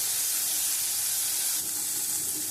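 Vegetables frying in a pan with turmeric for a Bengali meal, giving a steady, close, loud sizzle and hiss with no break and no voices.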